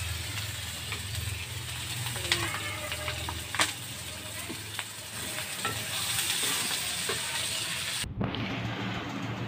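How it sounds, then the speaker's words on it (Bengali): Onion, ginger and garlic fry in oil in a pan for a spiced taki fish mash, giving a steady close sizzle with occasional sharp spoon clicks and scrapes, and a brief break near the end. "পেঁয়াজ, আদা আর রসুন ভেজে নিচ্ছি।"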